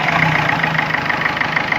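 A Ford Figo diesel engine idles steadily after a timing belt fit and cylinder head overhaul, with a continuous, even low rumble and a close clatter that holds throughout with no voices.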